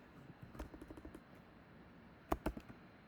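Keystrokes on a computer keyboard while entering a query, a few soft scattered taps followed by a quick cluster of louder clicks, close and quiet with no talking.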